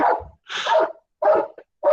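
A neighbour's dog barks loudly out in the street, four sharp, close barks in quick succession with brief silent gaps between them.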